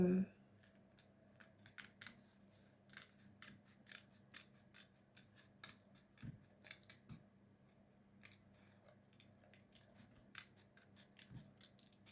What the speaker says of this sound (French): je vais quand même faire un peu de découpage avec vous